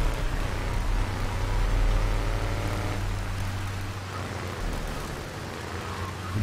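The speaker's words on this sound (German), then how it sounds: "Ein blöder Regen." Steady rain hisses across the scene in Grand Theft Auto III, a dense, constant wash of noise with a low engine drone running underneath throughout.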